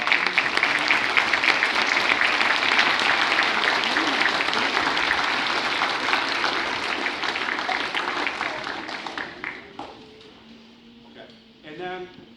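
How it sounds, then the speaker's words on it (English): An audience of parents applauds, loud and dense for about nine seconds, then the clapping thins and fades while a voice starts speaking near the end. "So please give yourself a round of applause."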